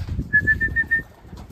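A racing pigeon arrives home from a 170-mile race, giving a short run of thin, evenly spaced whistling notes over a soft low rumble outdoors.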